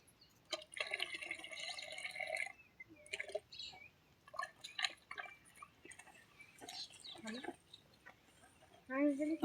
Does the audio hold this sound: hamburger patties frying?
no